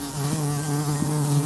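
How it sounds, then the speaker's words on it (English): A deep, steady low buzzing hum like bees droning inside the walls of an old abandoned wooden cabin, continuous and close, with faint pulsing swells and no voices. "This was a deep, low hum, too loud to be a single bee, too focused to be a swarm."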